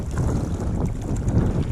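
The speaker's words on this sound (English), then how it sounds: "it's just really windy." Strong wind blowing over a mountain lake in the wilderness, a steady, loud roaring rush buffeting the microphone, with no voices heard.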